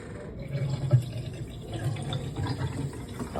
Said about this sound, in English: I'm pouring Richard soda.